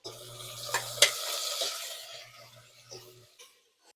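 Onion with four or five green chillies frying in a small amount of oil, a soft sizzle with a few sharp stirring clicks and scrapes in the first half, then thinning out and fading toward the end.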